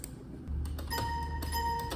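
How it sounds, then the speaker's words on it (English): Ambient bells in a lofi beat made in FL Studio ring out in bright, sustained tones, drenched in delay and echo. Several soft strikes repeat and overlap into a spacey, shimmering texture. "these are the bells that I play in the climax. I added drip and delay and really just made it ambient and spacey"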